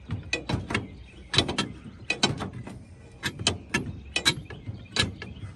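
An old engine with a sticky spot is turned over by hand crank. Bursts of close mechanical clicks and clunks come in uneven clusters, and no one speaks.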